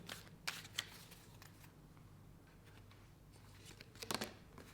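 Tarot cards riffle and snap in a few quick bursts near the start and again toward the end, with soft papery shuffling in between over a quiet room hum.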